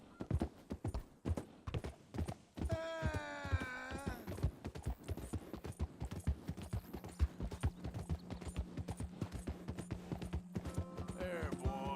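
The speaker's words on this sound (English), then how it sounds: "That's my horse. That's my original horse." A horse's hooves clip-clop in a steady, close rhythm through Red Dead Redemption 2, with a horse neighing briefly early on and again near the end, the hoofbeats continuing under a low background tone.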